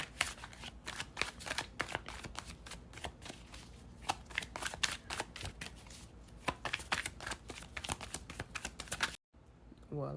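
A deck of tarot cards is shuffled by hand, giving a steady run of quick, crisp riffling snaps close to the microphone, with a brief pause near the end before it resumes.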